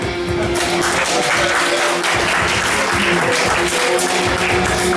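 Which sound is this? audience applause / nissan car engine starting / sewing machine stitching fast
audience applause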